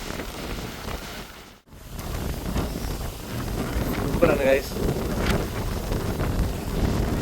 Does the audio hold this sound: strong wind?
yes